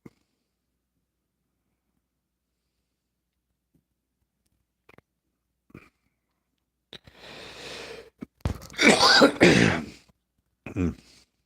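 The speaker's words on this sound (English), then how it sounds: "Sorry for the coughing." A person with a sore throat clears their throat and coughs after a long near-silence: faint ticks first, then a rough throat-clearing rasp, a loud burst of coughs and a final short cough, close to the mic.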